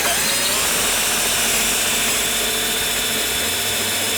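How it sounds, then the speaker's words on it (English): A power drill whines steadily and loudly, grinding continuously through wood with no pauses. "making sure that our drill is stationed up and down, keeping a nice vertical entry into the hole"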